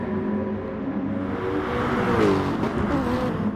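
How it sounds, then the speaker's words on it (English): Race cars from a sim racing game, GT3 cars including a Lexus in an endurance league round at Lago Maggiore, run continuously at a chicane with steady engine drone and a rising rev sweep near the end, no talk. "As we enter the chicane, there's Nick H. There's Rossi BFC in the Lexus with his teammate just behind him"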